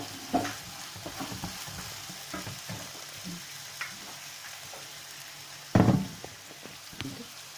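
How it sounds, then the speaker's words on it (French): Chopped onions and garlic cooking in olive oil in a pan, giving a soft steady sizzle with occasional stirring scrapes and one louder clatter near the end, close by with no talking. "j'ai mis les oignons, j'ai mis l'ail, je vais mettre un peu d'huile d'olive"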